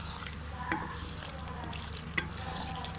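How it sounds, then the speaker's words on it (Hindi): Beef, about 1.25 kg, being stirred and fried in a pot for a turnip-and-beef curry: a steady low sizzle with a couple of brief scraping stir knocks, no talk. "इसको अच्छे तरीके से मिक्स करेंगे।"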